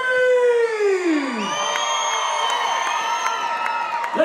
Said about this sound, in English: Lake Tahoe, let me hear you scream!